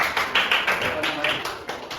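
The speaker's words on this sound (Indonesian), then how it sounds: "terima kasih tepuk tangan" A group in a classroom claps in quick, uneven bursts of applause lasting a couple of seconds, fairly close and moderately loud.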